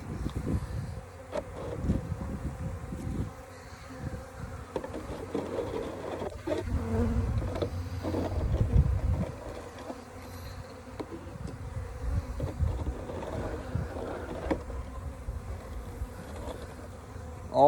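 Honey bees buzzing around a hive with solid rock set inside, a dense continuous close drone that swells midway, with no talk.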